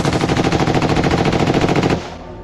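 A sustained burst of machine gun fire during a combat ambush on a Russian patrol, rapid evenly spaced shots loud and close for about two seconds before cutting off into a fading tail.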